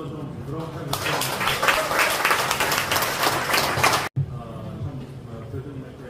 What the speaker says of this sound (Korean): 박수 한번 좀 부드럽게 하겠습니다.